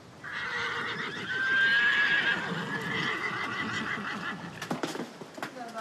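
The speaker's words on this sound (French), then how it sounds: "leurs hennissements désespérés resteront sans réponse" Mares whinny loudly in long, quavering calls, with hooves clip-clopping and thudding underneath, ending in a few sharp knocks.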